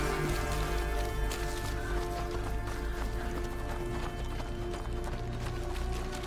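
Horse hooves clip-clopping at a steady running pace in the medieval game A Plague Tale: Innocence, fairly loud and continuous over a droning, dense game soundtrack.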